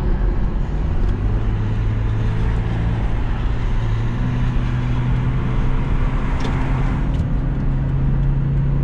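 A 2008 Toyota Prius Grand Touring cruising on a highway, heard from inside the cabin as a loud, steady drone of engine and road noise with a low hum that shifts slightly in pitch.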